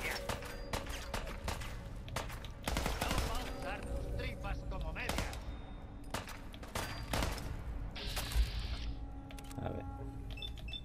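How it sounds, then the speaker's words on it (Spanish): Gunfire in the Fallout 4 video game, a run of sharp shots and bursts at irregular intervals, some clustered, over a busy game soundscape. "Dos tiros en la cabeza."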